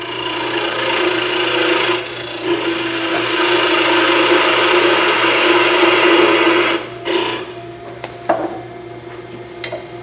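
A wooden pepper mill blank being trued at the end on a wood lathe, a loud, steady scraping rasp of the tool against spinning wood with a few brief breaks, then trailing off into lighter scrapes.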